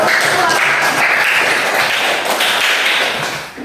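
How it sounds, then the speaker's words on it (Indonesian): Classroom applause from a group of primary school pupils for a student group after a presentation, a steady dense patter of small hands clapping close by, sustained for several seconds before tailing off. "tepuk tangan untuk kelompok 1"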